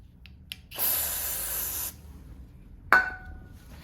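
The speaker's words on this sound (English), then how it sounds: "I'm gonna spray that onto the rack" A steady aerosol spray hisses onto a rack for about a second during brake rotor and caliper maintenance on a 2022 S1000 R motorcycle, preceded by a couple of small clicks and followed by a sharp metallic clink.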